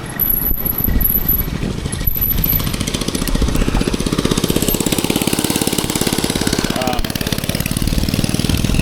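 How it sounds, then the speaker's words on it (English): A small mini bike engine runs loud and close with a rapid, steady knocking pulse throughout, on a ride alongside an e-bike in California. "That's the same mini bike."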